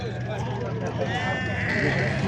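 Young goat kids bleat repeatedly at a busy outdoor livestock market in Füzuli, their wavering cries rising over steady crowd chatter and nearby voices.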